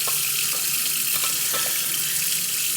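Water running steadily from a tap into a tub for making iced tea, a continuous splashing hiss with a few small clinks, nearby and alone.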